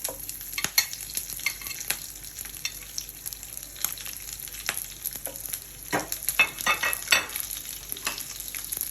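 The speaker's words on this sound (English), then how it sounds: "Wait for the mustard to splutter." Mustard seeds spluttering in hot oil make sharp scattered pops and crackles over a low hiss, irregular and close, growing busier toward the end, with no voices.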